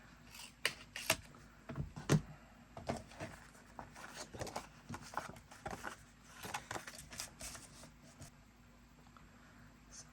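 Scissors trim paper for a handmade travel folio, a series of quiet crisp snips and paper rustles in an irregular rhythm, close and faint.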